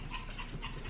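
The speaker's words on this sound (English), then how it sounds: "here comes the dogs" Dogs arriving at a home, panting close by with faint soft whimpers, a steady breathy rhythm throughout with no talking.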